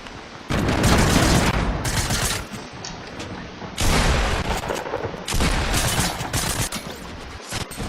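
Dense bursts of Fortnite video game gunfire, rapid overlapping shots and booms, loud and close, coming in three long volleys with brief lulls between.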